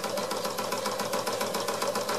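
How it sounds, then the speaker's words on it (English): Wilesco D141 toy steam engine running with a rapid, even mechanical chuffing and clatter, close and continuous throughout with no talking. "it is a powerful little engine"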